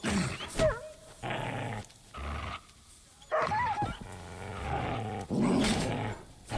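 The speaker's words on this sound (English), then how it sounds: "that's a dog! That's a dog, the dog is perfect." A dog growls and snarls in Kingdom Come Deliverance II, in loud, rough bursts mixed with other creature-like roars and combat sounds, coming and going in several waves.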